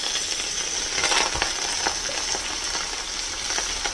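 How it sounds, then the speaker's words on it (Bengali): Coriander stems, cumin seeds and slit green chillies fry steadily in hot oil for a Bihari-style fish curry, a dense continuous sizzle with faint crackles and pops throughout, no voices. "হালকা করে এটাকেও ভেজে নেব।"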